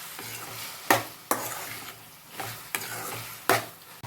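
Boiled prawns with onion, tomato and green chilli are stirred in a pan, giving a soft sizzle punctuated by about five sharp, evenly spaced scrapes and knocks of a spoon against metal, with no speech.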